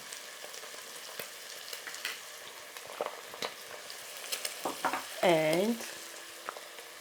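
Fried rice sizzles steadily in a hot pan with vegetable stock cube, seasoning and black pepper while it is stirred, with scraping clinks and a louder burst of frying near the end.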